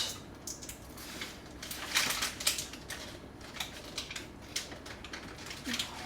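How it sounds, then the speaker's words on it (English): A knife working through very hard butter, a series of close, crunchy scraping and cracking strokes in uneven bursts, with no talk. "So I'm just going to cut the butter. This butter's really hard to cut."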